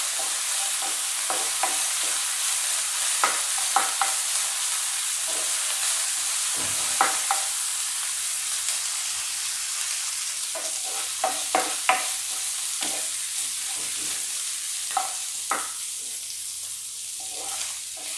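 Green peas frying in a pan for a samosa filling, a constant close sizzle punctuated by repeated spatula scrapes and clinks at an irregular pace, no voices.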